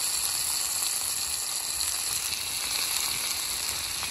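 Tomato hits hot oil in a pot for stewed red beans, setting off a loud, continuous sizzle and crackle that holds steady and close throughout with no voices.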